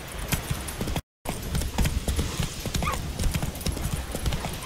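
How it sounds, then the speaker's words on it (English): A horse gallops steadily in The Witcher 3: Wild Hunt, with dense rhythmic hoof clip-clops running close and loud throughout and a brief dropout near the one-second mark. "Let's get on a horse."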